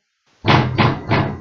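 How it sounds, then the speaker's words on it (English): Three heavy, booming blows land on a wooden door in quick succession, loud and close, each thud ringing briefly before the next strike. "it sounded like someone slammed their fists against the door"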